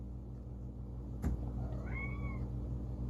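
A house cat gives a single meow, fairly close and clear, over a steady low background hum.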